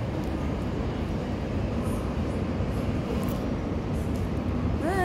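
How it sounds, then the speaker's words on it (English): A train rumbles steadily as it pulls away, with a continuous low roar and a rising metallic squeal right at the end. "your train is going out"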